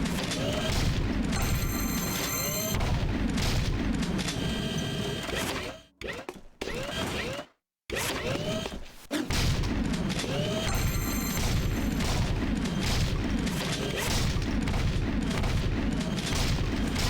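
Gunfire in the game Jak II comes in loud, dense bursts layered with booms and impacts, briefly cutting out to near silence in the middle before the barrage resumes, with a voice talking underneath.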